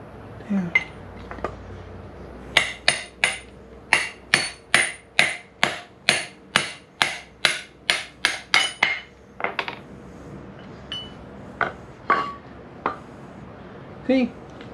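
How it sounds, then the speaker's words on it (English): Repeated hammer blows knocking out a part of a Royal Enfield rear brake drum, about fifteen sharp metallic whacks in a steady rhythm, close and loud, then a few scattered knocks and clinks. "Takes a few whacks. It's not the easiest thing to pop out"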